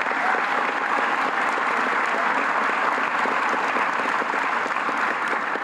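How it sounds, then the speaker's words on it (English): Sustained, dense applause from a large audience at a Hispanic Heritage breakfast event, loud and steady throughout with only faint crowd murmur underneath. "So I want to give her a round of applause."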